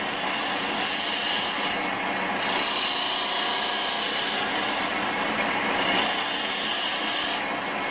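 A Hunter Tool Systems woodturning cutter takes a light cut in spinning wood on a lathe. The scraping hiss is steady and close, swelling and easing in regular waves about every two seconds.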